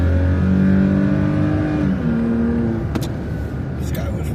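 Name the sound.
truck engine revving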